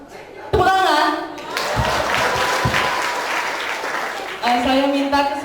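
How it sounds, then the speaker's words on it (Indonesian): Applause from an audience at a GBI Meliau youth Christmas service swells loud and steady between stretches of someone speaking, the clapping filling the middle of the clip before his voice returns over it. "Lagi lah. Tepuk tangan."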